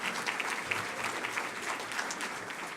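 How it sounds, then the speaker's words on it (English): A gathered audience at a charity event claps steadily, a moderate, even patter of many hands heard from a little distance, sustained without a break for a few seconds. "Give yourselves a round of applause for being here"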